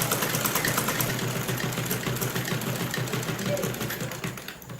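A sewing machine runs steadily while stitching the hem of a salwar, its motor whir continuous and close throughout with a slight drop near the end; a person talks over it.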